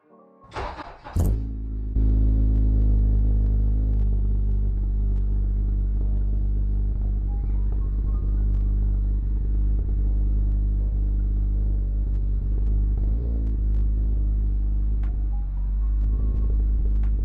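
A 9th-generation Honda Civic Si engine, newly fitted with a flex fuel kit, cranks briefly, catches and settles into a loud, steady idle that continues unbroken.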